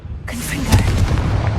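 Confringo blasting spell in the Hogwarts Legacy game bursts into a loud, close explosion with a sharp onset and a rumbling boom that fills the short moment.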